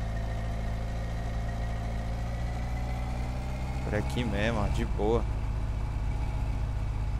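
A car engine in the video game My Summer Car idles in a low, continuous drone while someone speaks briefly near the end.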